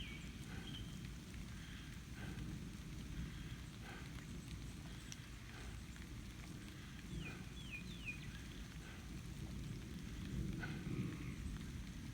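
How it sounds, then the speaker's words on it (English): Light rain sprinkling outdoors during a hot summer stretch, with a steady soft patter and hiss running continuously at a low level, a few faint bird chirps near the middle. "It's starting to rain here."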